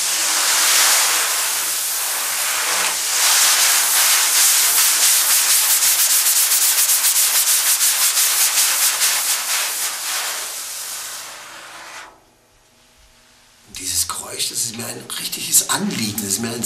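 A jazz brush swept and rubbed across a drumhead, a steady close hissing scrape that runs for about twelve seconds, breaks off briefly, then returns in shorter, choppier strokes.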